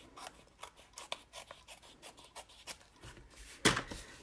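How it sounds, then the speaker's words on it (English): Scissors trim a thin edge off cardstock for an altered notebook: a quiet series of short, crisp snips and rasping cuts at close range, ending with one louder snap. "I do need to trim just a little bit on the edge here"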